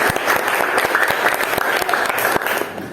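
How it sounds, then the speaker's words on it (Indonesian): Classroom of students clapping together for a classmate's answer, a steady dense patter of many hands filling the room at moderate loudness with no voices over it. "tepuk tangan buat jawaban teman kalian dulu"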